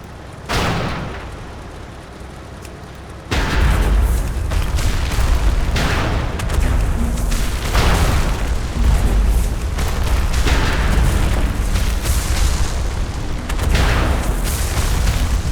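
Cannons fire in World of Warcraft Dragonflight, a loud sharp boom followed by sustained rumbling barrages and repeated explosive blasts over a dense battle din.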